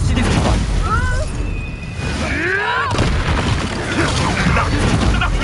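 Incendio fire spell bursts in the game Hogwarts Legacy, a loud booming blast with fiery roar amid dense combat effects, followed by a second sharp impact midway, with a voice talking over it.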